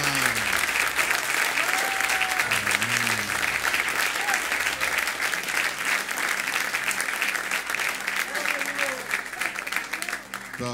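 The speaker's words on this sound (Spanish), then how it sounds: "Un aplauso con ánimo." A church congregation at a Friday evening service claps loudly and continuously for the whole stretch, a dense, even wash of applause with faint voices and calls mixed underneath.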